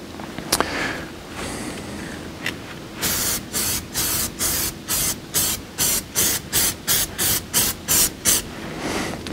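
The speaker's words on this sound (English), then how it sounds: "Spray a light coating on that as well, and then let it dry." An aerosol can sprays a light coat of developer during a dye penetrant test, a nondestructive testing method. Close, crisp hissing comes in a regular series of about a dozen short bursts, preceded by a few faint clicks and a quieter stretch.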